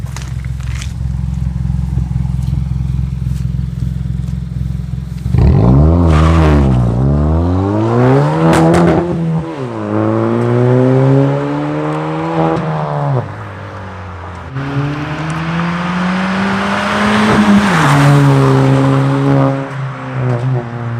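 A car idles at a standstill, then launches hard with a loud surge of engine and rising revs through gear changes before passing nearby, with the roar fluctuating as it moves away and returns.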